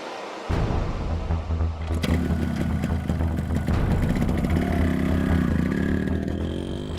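A motorbike engine kicks into life after a brief quiet moment, then roars steadily and revs loudly as the bike pulls away, close and sustained throughout.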